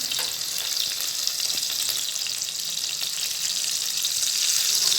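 Whole dried nei meen karuvadu fry in hot oil, giving a steady, close, bright sizzle that runs unbroken and swells slightly near the end.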